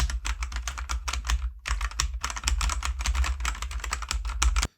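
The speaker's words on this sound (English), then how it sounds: "Now let's do a sound test of the Redragon switches and keycaps." Rapid, steady typing on a Redragon Pollux K628 Pro 75% mechanical gaming keyboard, dense keystroke clatter close up and alone, with a brief pause near the middle before the typing resumes.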